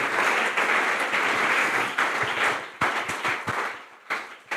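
A church congregation gives a strong round of applause during a Spanish-language sermon, a continuous loud wash of clapping that thins out with scattered louder claps near the end.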